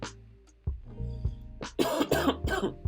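A few harsh coughs and throat-clearing sounds, close and fairly loud, coming in short bursts toward the end.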